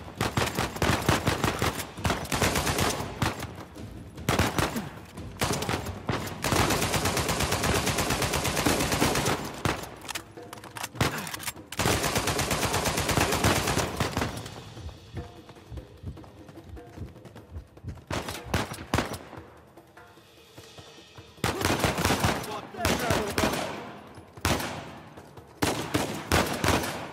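Gunfire in the video game Uncharted 4: loud, dense bursts of automatic weapon fire and rapid shots, nearly continuous with only short lulls, and no talking.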